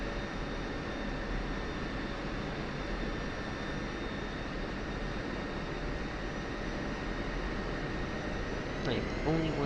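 A military jet in the DCS flight simulator taxis to parking, its engine a loud steady whine and roar that holds at constant level throughout.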